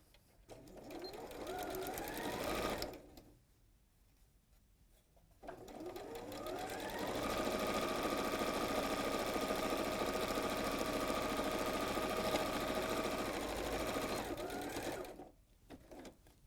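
A sewing machine stitches quilt strips in a fast, even mechanical whirr, running in two long bursts separated by a short pause and stopping near the end.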